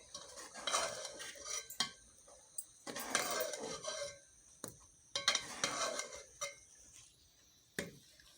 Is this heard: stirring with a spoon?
yes